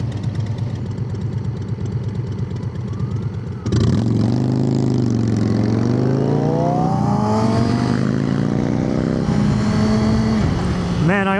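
A motorcycle pulls away after an exhaust replacement, with a steady idle giving way to a louder engine note that rises and falls through gear changes, a continuous nearby roar for most of the clip.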